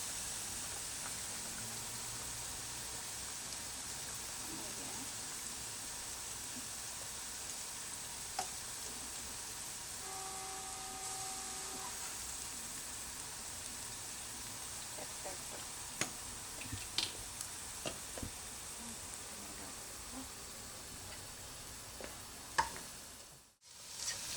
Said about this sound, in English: Periodically stirring the noodles.